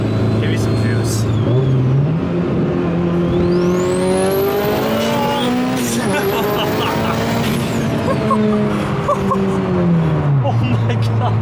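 An 800hp Mitsubishi Evo 8 accelerating hard, loud and close, its engine note climbing steeply through several gear changes, with a high whine sweeping up and down over the roar.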